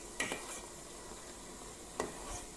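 A spoon stirs butter melting into ghee in a pan, giving two quick faint clinks against the metal over a soft steady hiss.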